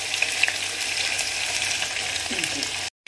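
Mustard seeds, urad dal, onion and green chili fry in hot oil for a hotel-style rava upma. A steady, loud sizzle continues with faint crackles and ends abruptly.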